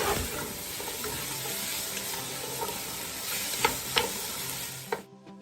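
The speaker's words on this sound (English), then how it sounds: "Saute for 1 minute until it becomes translucent." Chopped onions sauté in olive oil for quick greens with smoked turkey, giving a steady bright sizzle with occasional scraping stirs and clicks, close and continuous before cutting off abruptly at the end.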